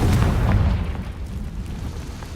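A Confringo blasting curse explodes in Hogwarts Legacy, a single loud boom at the start that rumbles and fades over the next couple of seconds.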